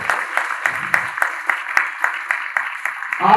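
Rhythmic hand clapping from a crowd at a Saraswati Puja and Basant Panchami celebration at a school academy, steady regular claps carrying on for several seconds with faint voices underneath.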